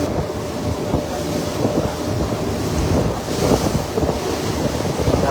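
Ocean waves on the open sea heard from aboard a boat, a steady loud wash of water and surf with heavy wind buffeting the microphone throughout.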